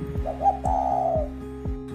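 Spotted dove cooing, a soft low-pitched coo phrase held over a steady background hum with a few faint clicks, fairly close and clear with no voices.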